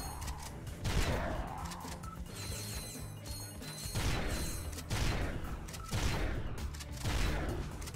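Weapon fire in Ratchet & Clank 2 with a lock-on gun, heard as dense rapid bursts of shots and mechanical whirring, crashes and clanks. The bursts are loud and layered and keep going the whole time, with no talking.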